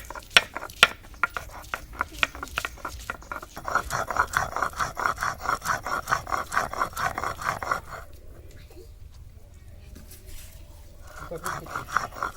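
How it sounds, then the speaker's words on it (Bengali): Ginger, garlic and onion are ground into a paste for eggplant cutlets, a repeated rasping, rubbing grind in a steady rhythm that grows louder in the middle, then fades to quiet with faint scraping near the end. "আদা রসুন পেঁয়াজ বেটে নেব।"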